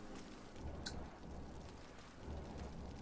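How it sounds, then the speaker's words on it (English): Steady rain hissing in the video game Vampyr, a continuous broadband wash with scattered drop patter and a faint low rumble, no voices. "Oh, it's raining."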